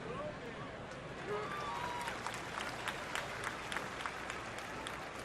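Big baseball crowd at Miller Park during a Cardinals at Brewers game, a distant broad roar with scattered clapping, under speech-like murmur.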